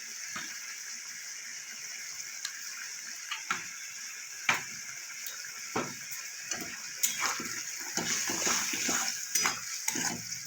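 Spice paste and potatoes sizzle as they are sautéed in a pan for flat bean and fish curry, a steady frying hiss broken by repeated scraping stirs that grow busier toward the end.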